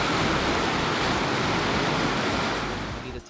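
Rushing river water at the Devprayag confluence, where the fast Bhagirathi meets the calm Alaknanda, roars as a steady, loud broadband wash throughout before easing slightly at the end.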